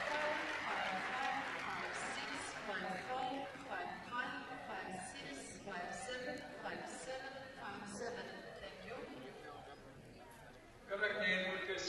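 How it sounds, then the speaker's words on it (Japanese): Audience applause and crowd noise fill a figure skating arena after a high 5.7 score, a steady broadband roar running the whole time beneath continuous talking from commentators. "思わず拍手をする"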